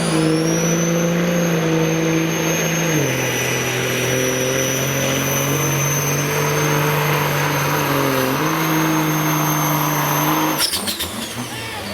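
Diesel pulling truck at a truck-pull event, its engine roaring loud and steady near the mic, dropping pitch as the transmission shifts, then cutting off abruptly near the end with rattling.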